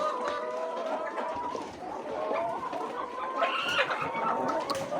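Laying hens on a poultry farm cluck and call steadily throughout, several birds at once at moderate distance, with overlapping rising calls and a general barn murmur, no talking.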